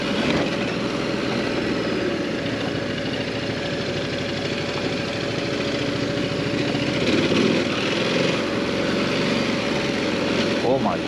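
A Ducati DesertX Rally motorcycle ridden on a trail, its engine giving a steady, droning hum that runs unbroken throughout at moderate loudness.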